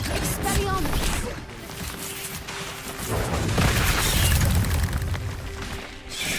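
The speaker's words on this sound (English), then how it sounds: "Expelliarmus!" Expelliarmus spell cast in the Hogwarts Legacy video game: a loud, dense magical burst with booming, crackling impacts that swell and persist for several seconds amid busy game sound.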